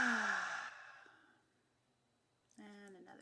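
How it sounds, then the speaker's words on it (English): A slow, deep exhale fades out over the first second as part of a guided breathing exercise, followed by quiet, then a clear voiced sound near the end. "Just going to start with some breathing here."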